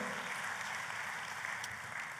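A church congregation applauds for God during a sermon, with steady, dense clapping that stays faint and distant throughout, like a soft rain-like wash.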